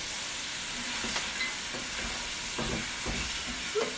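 Oxtail with onion, garlic, pepper and Sazon sizzling steadily in a pan, with a few scraping tosses and light knocks over the continuous hiss.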